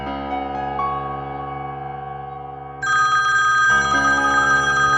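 A telephone rings on and on with no answer, a steady electronic ringtone that steps up into a brighter, louder pattern partway through.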